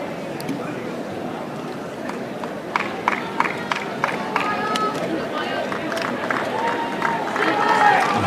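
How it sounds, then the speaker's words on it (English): A huge crowd mills around the grounds at Wimbledon, on Henman Hill and along the alleyways, producing a dense, steady murmur of many voices with scattered louder shouts and knocks. The noise swells slightly toward the end. "Huge crowds today, you can see on Henman Hill and in the alleyways"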